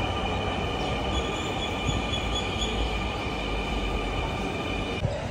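A Dhaka metro rail train runs steadily with a continuous close rumble, a rolling low roar under high whining tones, with no voices.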